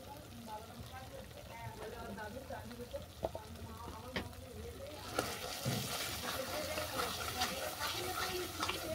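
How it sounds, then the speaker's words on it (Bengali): Spices sizzling in hot oil with chilli powder and garam masala as they are sautéed and stirred, a steady frying hiss that grows louder and brighter partway through, with a voice talking over it. "আবারও সমস্ত উপকরণ ভালো করে কষিয়ে নেব যতক্ষণ না মশলা থেকে তেল ছাড়ছে।"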